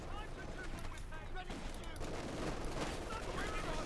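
Machine gun fire in the real-time strategy game Company of Heroes 2, steady busy gunfire and battle noise running throughout under a commentator's talk.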